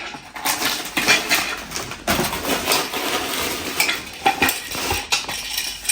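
Metal kitchenware, a pressure cooker and a dosa pan, clanks and scrapes as it is lifted out during unpacking of luggage. Close, irregular knocks and rattles of pots and utensils, with no voices.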